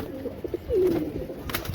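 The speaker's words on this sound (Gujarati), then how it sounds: "કબૂતર તડફડિયા મારે બહાર નીકળવા હતું તમને બતાવું" A pigeon on a rooftop coos once in a short, close, rolling call, with a few soft flutters and shuffles around it and no talking.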